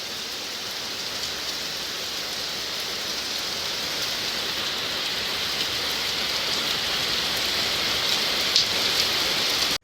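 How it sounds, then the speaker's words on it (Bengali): Heavy rain pouring down from a darkened sky, a dense, even hiss of drops that holds steady and close for the whole stretch, with no voices. "এখন দেখি মারাত্মক বৃষ্টি পড়ছে"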